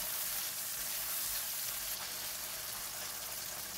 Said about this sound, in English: Stir for about 30 seconds.